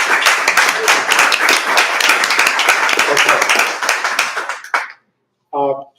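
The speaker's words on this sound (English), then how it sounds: "Can we give her a round of applause?" An audience at a book talk gives Vidya, a physician who treated TB patients, a round of applause: dense close clapping that tapers and stops abruptly, followed by a brief spoken voice.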